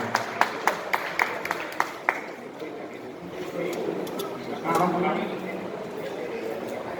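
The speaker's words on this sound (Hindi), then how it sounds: "जोरदार तालियों से आपकी अनुमोदना चाहता हूँ।" Slow, regular claps ring out at a felicitation event for pandemic frontline workers in Sirohi, then give way to a murmuring crowd and a swell of broader noise.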